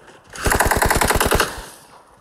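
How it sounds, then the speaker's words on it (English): Rapid burst of pistol fire in the PUBG Mobile video game, about a dozen closely spaced loud shots lasting roughly a second, with echoing tails fading afterward. "He got two guns in his back and shooting at us with a pistol."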